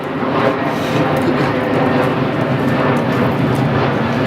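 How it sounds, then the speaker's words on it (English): A fixed-wing airplane passes overhead above a building site, its engine a loud, steady broadband roar that fills the whole stretch without a break and without any talk. "Plane going overhead."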